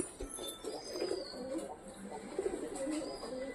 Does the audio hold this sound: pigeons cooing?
yes